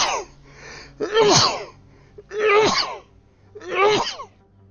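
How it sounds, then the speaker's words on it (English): Three loud, explosive sneezes in quick succession, each a sharp burst with short pauses between, close to the listener. "Excuse me for the sneezes."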